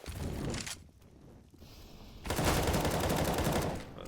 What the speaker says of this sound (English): Plopsky responds with the frag of his own and takes down Alu as well.